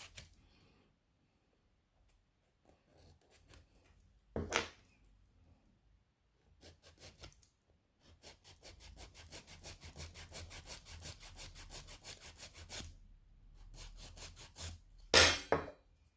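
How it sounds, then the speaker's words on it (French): A nail file rasps back and forth across a fingernail being shaped into an extreme almond form, in close steady strokes that run in bursts separated by short pauses. "Donc, je lime encore."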